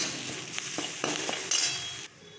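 Ginger garlic paste and chilli fry with lightly browned onions in a pan, a continuous close sizzle with several sharp stirring scrapes and clinks, then a sudden cut to near quiet.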